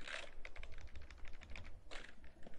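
Key presses on a computer keyboard while sculpting in ZBrush, a run of quick, soft clicks with brief pauses, faint and close, no talking.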